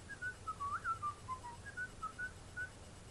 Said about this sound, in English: You see, I can whistle.